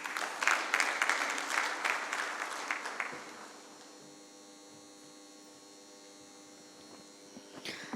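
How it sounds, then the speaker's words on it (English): Conference audience applauding an inaugural session speaker in a hall, a burst of many hands clapping for about three seconds, then dying away into a steady electrical hum with a few stray claps. "can we have a huge round of applause for him once again"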